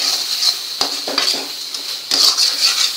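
A spoon stirs and scrapes well-browned chopped onion around a sizzling pan while making pav bhaji, with quick scratchy strokes and clinks over a constant fry hiss, up close and without speech.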